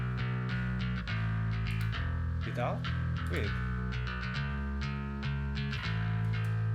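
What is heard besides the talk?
bass DI track blended with drive effect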